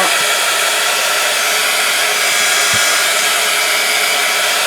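A heat tool blasts hot air over a freshly coloured craft tag, giving a loud, constant roaring whoosh that runs unbroken from start to finish.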